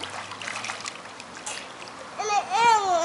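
A young child splashes water in a swimming pool at dusk in summer, soft trickles and splatters giving way to a burst of splashing near the end, with a voice rising over it.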